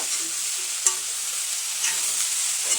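Salted pumpkin mixture with drumstick and onion for a Kerala-style theeyal is stirred in a hot pan, a soft continuous sizzle punctuated by a few faint spoon clicks against the pan.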